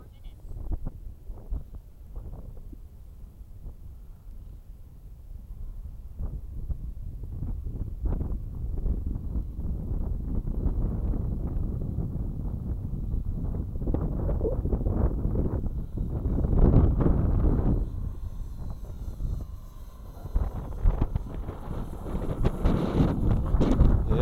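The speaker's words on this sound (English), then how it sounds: "Yeah, it is kind of gusting, ain't it?" Gusty wind buffets the microphone at a model airplane flying field on a windy day, a steady low rumble that swells and surges in loudness over time.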